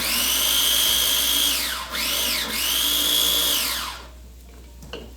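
An electric grinder whirs through black garlic in a home kitchen, a loud high motor whine that dips twice as it bogs under load, then winds down and cuts off near the end.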